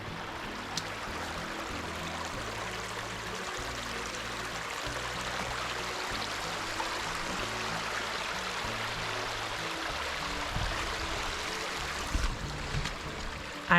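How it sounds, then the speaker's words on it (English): A flowing creek beside an off-grid tiny house and cabin build site runs as a steady, moderately loud rush of water throughout, with a low droning hum underneath and a couple of faint knocks near the end. "I love the creek."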